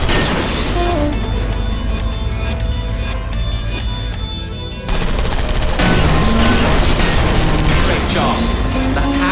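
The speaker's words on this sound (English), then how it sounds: "The servers on this side blown up." Servers blow up in Portal Stories: Mel, loud booming blasts and crackling debris layered over a dense mechanical game soundscape, with a sharp surge in intensity midway.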